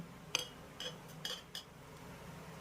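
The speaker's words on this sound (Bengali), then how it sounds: "আর এবার আমি কুড়িয়ে নেওয়া নারকেলটা মিক্সিং জারের ভিতরে দিয়ে দেব" A few sharp metallic clinks, like a spoon knocking against a steel mixer grinder jar, come as grated coconut is added to the large jar. There are four separate taps spaced through a quiet kitchen.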